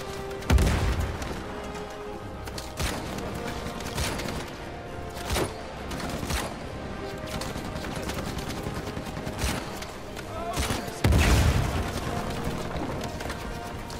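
Repeated gunshots in the video game Uncharted 4: A Thief's End, scattered single cracks with a couple of louder booms over a constant background rumble.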